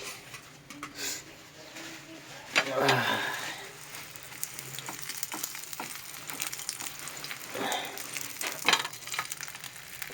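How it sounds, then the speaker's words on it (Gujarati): Roti dropping into hot oil for frying in a home kitchen, giving a steady close sizzle with a louder burst as it goes in, plus light clatter and scattered small knocks. "તેલ હવે તપી ગયું અને આપણે એમાં નાખી દઈશું રોટી"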